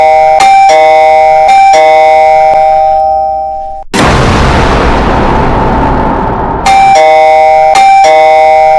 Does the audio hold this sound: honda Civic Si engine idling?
no